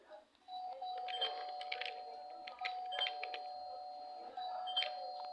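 A video-game doorbell chime rings repeatedly with tonal beeps and clicks, faint and somewhat synthetic, looping several times without speech.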